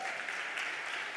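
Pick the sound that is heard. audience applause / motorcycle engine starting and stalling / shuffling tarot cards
audience applause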